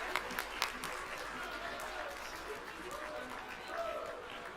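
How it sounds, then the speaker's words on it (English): Audience at the Rocky Mountain Regional Emmy Awards applauds student award winner Hannah Taylor with a steady, soft wash of clapping, distant and fairly quiet, with a few sharper claps near the start. "we want to give her a round of applause"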